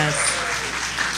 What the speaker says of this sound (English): Let's give Medusa and Mama Nene a round of applause.